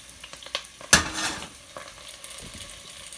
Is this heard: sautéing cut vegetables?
yes